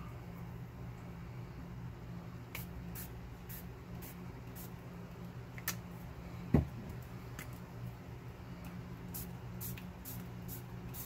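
Brief hissing bursts of spray paint onto a tee shirt repeat at irregular intervals, short and close, over a quiet low background hum.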